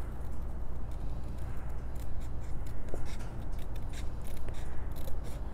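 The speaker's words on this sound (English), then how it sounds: "I'm using some nice fine tip cutter bee scissors, and I'm just cutting along the edge of those 3 strips that I put down" Fine tip Cutter Bee craft scissors snipping along the edges of paper strips for a jewelry trinket box, a run of small crisp clicks and snips over a steady low background hiss.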